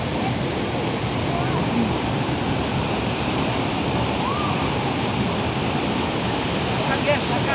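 The Sigerincing waterfall in Merangin, Jambi, Indonesia, roars as a steady, dense rush of falling water that stays loud and unbroken throughout.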